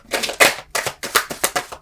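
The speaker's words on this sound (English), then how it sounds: "Let's do a pre-shuffle." A tarot deck shuffled in quick riffle bursts, several crisp papery ruffles in a rhythmic run, close and clear with no talking.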